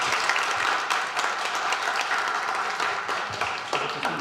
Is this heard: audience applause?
yes